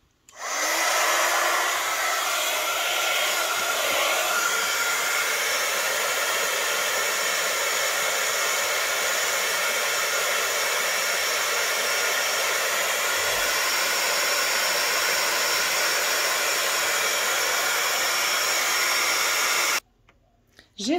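Heat gun melting embossing powder on a handmade card, a loud, steady blowing whir running continuously for about twenty seconds before cutting off.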